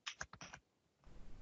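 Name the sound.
typing on clicking computer keyboard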